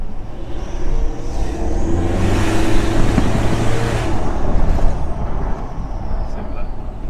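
A Mitsubishi Strada Triton pickup with a remapped engine accelerates, its engine note rising and swelling loudly from inside the cab, with people talking over it.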